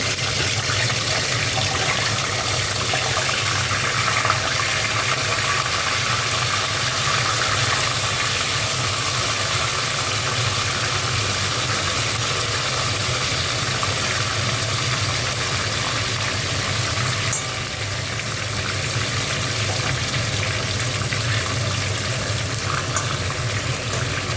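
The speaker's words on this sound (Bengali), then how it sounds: "এখানে দেখো কড়া বসিয়ে দিয়েছি, মাথাগুলো ভেজে নিচ্ছি।" Fish heads fry in hot oil in a kadai, giving a loud, steady, close sizzle that hisses on without a break and eases slightly near the end.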